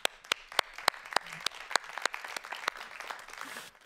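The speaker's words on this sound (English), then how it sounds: "Great, it's my time to applaud you." An audience claps at a talk on architectural cornerstones, sharp individual claps ringing out at a brisk uneven pace through a nearby room with a low murmur underneath.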